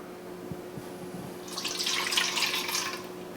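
A kitchen sink tap turned on during cooking: at first there is a faint hum and a few soft clunks, then water runs steadily, a bright hiss that swells and carries on through the end, with no talk.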